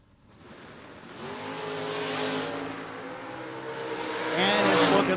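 A first-generation Camaro and a white fourth-generation Camaro launch down a drag strip, their engines roaring loudly and rising in pitch through gear changes, with an announcer talking over the racing.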